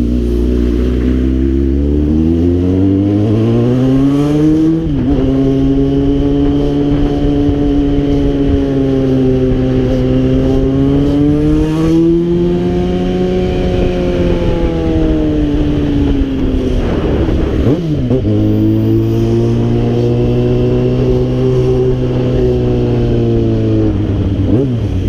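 A Yamaha XJ6 motorcycle carrying a passenger revs hard, its engine note climbing and falling through several long pulls with a brief drop around the middle, loud and close with wind rushing past the microphone.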